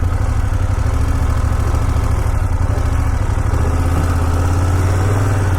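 A BMW F900GS Adventure motorcycle engine thrums steadily and close up while riding, with a constant loud pulsing rumble and a slight shift in pitch partway through.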